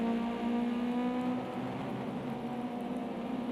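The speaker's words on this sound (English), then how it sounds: "that rain's just constant" Constant rain hisses over a Ginetta GT5 Cup race in a sim-racing game, with a steady engine drone underneath.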